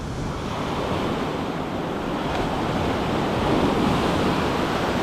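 Surf breaking along a shore where someone is fishing in rough, choppy water, with a steady loud wash of waves and wind rumble throughout and no voices.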